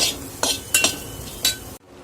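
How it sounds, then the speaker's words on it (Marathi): Roasted kantola (spiny gourd) is scraped out of a kadhai onto a plate, giving a few sharp, close metallic clinks and scrapes of a utensil against the pan, spaced irregularly, then a sudden drop to quiet. "तर आपण एका प्लेटमध्ये काढून घेऊया कडवंच्या"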